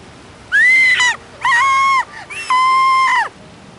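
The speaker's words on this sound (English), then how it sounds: "That was Vera screaming." A woman screams three times in a radio drama, each a long, loud, high-pitched cry with short gaps between them, heard up close and alone.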